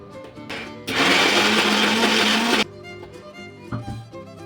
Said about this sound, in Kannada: ಬೇಳೆ ಬೆಲ್ಲ ಒಂದು ಸ್ವಲ್ಪ ಕಲಿಸ್ಕೊಂಡು ಮಿಕ್ಸಿಗೆ ಹಾಕೋಣ